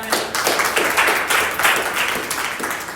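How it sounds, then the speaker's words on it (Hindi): Applause from a church congregation, a dense, continuous clapping that swells and fades in waves, loud and close throughout with no talk. "उनके लिए एक ताली बजाओ।"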